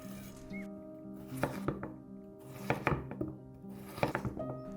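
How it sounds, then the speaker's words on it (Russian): A knife chops potatoes on a board in quick rhythmic clusters of crisp thunks, close and clear, over soft background music. "Нарезаем картофель."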